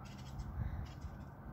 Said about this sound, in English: Birds chirping on a Friday, Saturday afternoon.